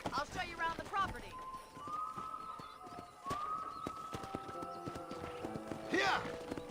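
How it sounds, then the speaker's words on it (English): Horse hooves clip-clopping as a rider travels in the video game Red Dead Redemption, steady rhythmic footfalls under spoken voices, with a few snorts and bird calls in the background. "let's see if you can still ride a horse"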